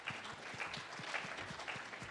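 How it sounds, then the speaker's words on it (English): Faint, distant applause from the audience at a blockchain tech talk, a soft continuous patter of clapping with a few louder individual claps in the mix. "give them one last big round of applause"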